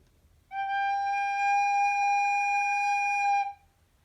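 A single sustained G rings on a recorder, a pure steady tone lasting about three seconds in a quiet room, beginning and ending cleanly with no talk.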